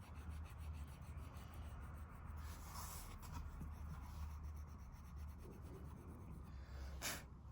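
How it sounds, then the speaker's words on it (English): The sharp edge of an eraser rubs back and forth on a paper drawing, a soft, steady scratchy friction that continues quietly throughout with no talking. "you can just use your eraser, that nice sharp edge of your eraser"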